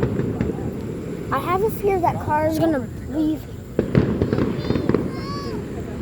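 Fourth of July fireworks pop and crackle at a distance in repeated bursts, while people talk nearby over them.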